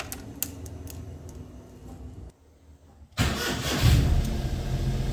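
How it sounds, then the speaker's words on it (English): A car engine cranks and catches after a short quiet pause, then settles into a steady, fairly loud idle heard up close with no talking. "Firstly, we're going to start the vehicle."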